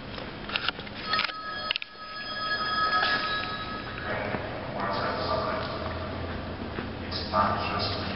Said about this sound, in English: there's a phone that rings, and it leaves messages